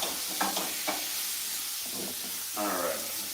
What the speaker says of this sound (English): I really just want to saute this up real quick before I add the meat product